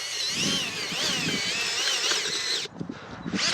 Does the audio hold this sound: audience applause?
no